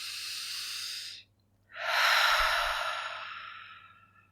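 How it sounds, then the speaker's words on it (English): Deep, slow breathing during a guided new moon meditation: one long airy exhale, a brief pause, then a fuller, louder breath that gradually fades away, close and clear with no talking. "Take as many of those life-giving breaths as you want, breathing up from the earth."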